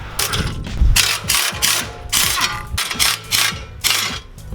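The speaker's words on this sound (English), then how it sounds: "I'm going to remove this bracket here. And that's a 17mm socket." Ratchet with a 17 mm socket removing a bracket while replacing the AC compressor on a Toyota Tacoma: repeated close, crisp pawl clicking in short strokes, with small metallic clinks between them.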